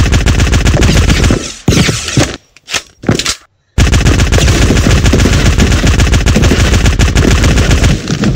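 Rapid automatic gunfire in a Scratch-made shooting video game: loud, dense volleys of shots that break off into short gaps and scattered bursts midway, then resume as continuous firing.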